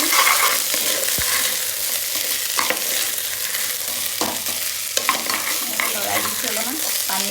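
Vegetable pulao being stirred in a pan, with steady scraping and stirring strokes over a soft continuous sizzle of frying, close and unaccompanied by talk.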